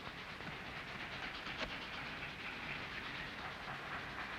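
Faint, steady rumbling hiss of a train in motion, with a soft clatter and one brief knock partway through; no voices.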